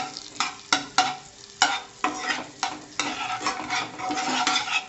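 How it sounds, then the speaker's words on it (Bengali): Butter, about four cubes, melts and sizzles in a wok while making white sauce for pasta, with a steady frying hiss and repeated sharp scraping stirs close by, no voices. "আমি কড়াইয়ের মধ্যে 4টে কিউব মতো বাটার দিয়ে দিয়েছি"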